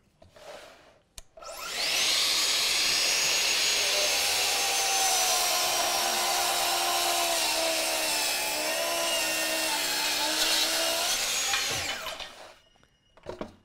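A cordless saw cuts through thick material in one long continuous pass, loud and close, with a whining motor and rasping cut that rises abruptly, holds steady for about ten seconds, then winds down.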